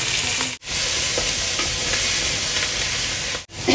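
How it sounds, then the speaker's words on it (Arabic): Meat frying with cinnamon, dried lime and cardamom as onion goes into the pan for an Iraqi tashreeb, a loud, dense, continuous sizzle close up, broken by two brief drops, with no talking. "هسه حمسناه اللحم ويا القرفة والنوم بصرة والهيل، وداي نضيف بالبصل."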